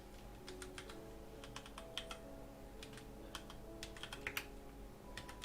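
Rapid, uneven keystrokes from a computer keyboard clatter steadily at close range over a low background hum, with no talking.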